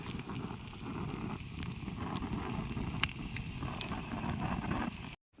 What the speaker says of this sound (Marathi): हे बघा आपलं मासं मस्तपैकी भुजलं जाताना हे बघा